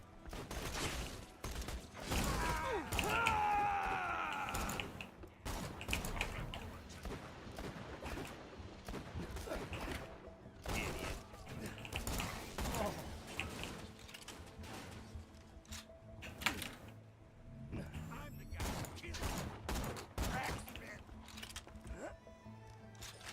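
Sniper rifle shots in Borderlands 2 ring out as sharp cracks scattered unevenly across a busy game soundscape, mixed with mechanical clanks and effects, while a voice talks over the action.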